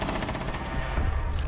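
Rapid automatic gunfire in a competitive shooter game, a quick burst of close, loud shots in steady rhythm.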